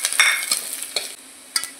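Whole garlic and dried chili frying in oil left from fried fish crackle in short bursts as a utensil stirs and taps the pan, close up, with quieter gaps between the strokes.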